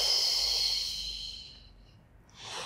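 A single long, breathy exhale from a person doing a Pilates upper-spine rotation, close and soft, fading out before a faint new breath begins.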